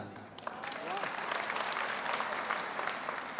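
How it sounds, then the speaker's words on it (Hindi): Audience at a Hindi kavi sammelan poetry recital in Burhanpur breaks into applause for a poet, the clapping swelling after a brief voice and holding steady and full to the end. "हम कवियों को पसंद आती है ताली"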